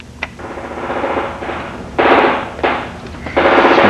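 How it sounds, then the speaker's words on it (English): Machine gun fire played back from a tape recording, several loud rapid bursts of automatic gunfire separated by short gaps, sounding close and slightly harsh over a low background hiss. "It's a machine gun fire."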